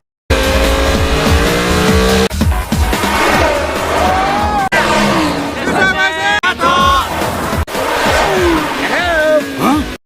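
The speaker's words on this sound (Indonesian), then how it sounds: "Meter pun mulai balapan ngedrift dengan mobil yang menantangnya." Animated cars racing and drifting, with loud revving engines, repeated tire squeals and skids, and excited voices and effects layered over the roaring action throughout.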